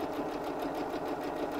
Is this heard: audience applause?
no